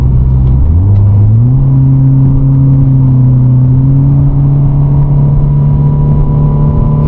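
A modded Acura TSX with a catback exhaust accelerates, its engine note climbing in pitch through the first second and a half, then holding a steady, smooth, loud drone with no voices over it.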